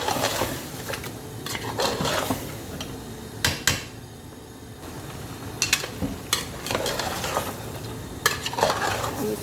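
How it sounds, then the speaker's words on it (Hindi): Paya, goat or lamb trotters, stir-fried in masala in a pot: a continuous low sizzle under scraping and clanking of a spoon against the pan, with occasional sharper metallic knocks, close and without talk. "इसको अच्छी तरीके से भून लेंगे इस तरीके से कि ये पाए एक जान हो जाए मसाले में"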